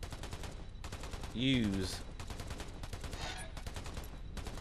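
Rapid enemy gunfire in the video game Black The Fall, a dense stream of repeated shots running through the whole passage with a brief brighter burst partway, heard alongside game sounds.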